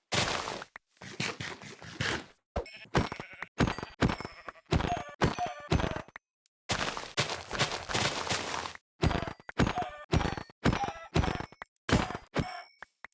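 Sheep bleating in the video game Minecraft, many short repeated bleats in quick bursts, loud and close, separated by brief silent gaps.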